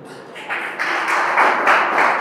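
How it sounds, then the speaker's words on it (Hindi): Audience applause at a college stage show of Odia poetry, a broad wash of clapping that swells after the first half second and holds steady, rising in bursts toward the end. "गोटे ताली चाहिए कविता रे"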